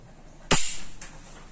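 A single sharp metallic snap from the dry-fire trigger pull of an unloaded Taurus TH40 pistol, followed by a faint second click, close and clear.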